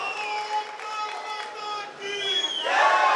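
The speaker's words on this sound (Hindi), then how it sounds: "ये तालियां रुकनी नहीं चाहिए।" An audience at the International Minjar Fair cheers and shouts during a performance by the HPP Police band, with raised voices and scattered clapping building louder toward the end.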